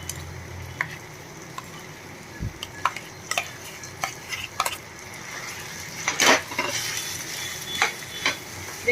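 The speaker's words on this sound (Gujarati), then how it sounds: "ગેસ ધીમો રાખીને આ બધું એકદમ બરાબર મિક્સ કરી લેશું।" Mashed potato with sambar masala being stirred in a pan over low gas, giving soft intermittent scraping and tapping strokes over a faint steady sizzle, with one louder clatter of utensil near the middle.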